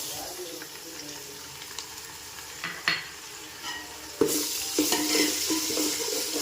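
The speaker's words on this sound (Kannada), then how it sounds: "ಇದಕ್ಕೆ ಇವಾಗ ಶುಂಠಿ ಬೆಳ್ಳುಳ್ಳಿ ಪೇಸ್ಟ್ ಹಾಕ್ಕೊಳ್ಳಿ." Onions fry with ginger garlic paste in oil for chicken biryani, giving a soft sizzle with occasional stirring scrapes and clinks, close, getting louder and brighter partway through as fresh paste hits the pan.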